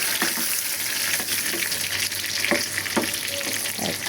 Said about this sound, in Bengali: আর ডালে বাগার দিব।